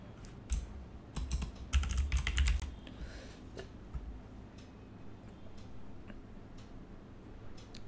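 Rapid clicking keystrokes on a computer keyboard, close and fairly loud in a quick flurry, then thinning to sparse, fainter taps with no one talking.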